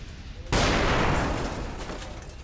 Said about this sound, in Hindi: महज 6 मिनट में हुए हैं कई धमाके।